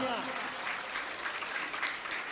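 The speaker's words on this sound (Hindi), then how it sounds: "जोरदार तालियां।" Applause from an audience at a gathering in Lalghati, Bhopal, Madhya Pradesh: a dense, steady wash of clapping that keeps a constant level for the whole stretch, with voices mixed in.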